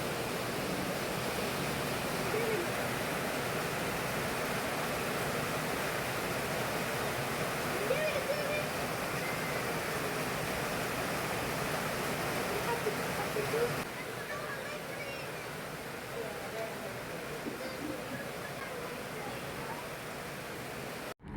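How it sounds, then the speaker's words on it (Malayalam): Heavy rain falls outside during a windy day with a power cut. A steady, broad wash of noise holds throughout and turns slightly softer and more muffled partway through. "പുറത്ത് നല്ല മഴയാണ്."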